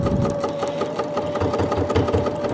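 A domestic sewing machine runs steadily, stitching a sleeve seam on a Butterick 6018 garment and then backstitching, its rapid mechanical clatter close and continuous without pause.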